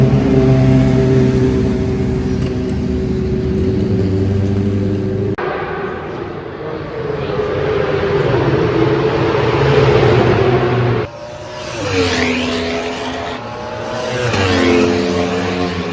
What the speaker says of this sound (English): just blown the baffle out of his exhaust and he hasn't even done a lap yet